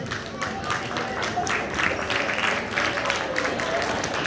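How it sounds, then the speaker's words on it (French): A crowd at a Francophone community brunch in Toronto applauds the committee and volunteers, with a scattered patter of hands that swells and dips. Voices murmur and call out throughout. "Venez prendre une pluie d'applaudissements"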